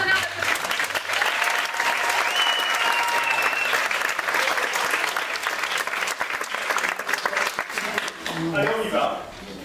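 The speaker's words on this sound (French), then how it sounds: "Merci de leur réserver un tonnerre d'applaudissements" A theatre audience at an international dance workshop breaks into loud, sustained applause that holds steady for most of its length, with a few voices rising under the clapping before it tapers off.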